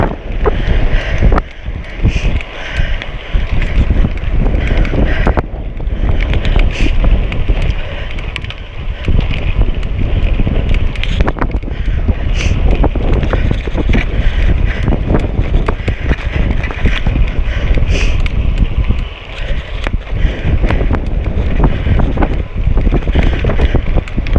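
Strong wind roars and buffets the microphone continuously with gusty surges, loud and close, alongside the rush of water, no voices heard.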